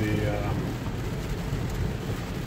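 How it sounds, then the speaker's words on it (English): A Tesla Model 3 plows through a large puddle, throwing up a steady, loud wash of splashing water that roars continuously alongside road noise. "water splashing."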